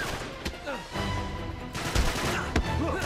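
Gunfire in Uncharted 3, a few sharp, scattered shots cracking out over in-game voices and background combat noise.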